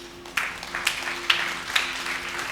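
A congregation at a Sunday church service claps in unison, with about four sharp, evenly spaced claps ringing over a soft sustained tonal background.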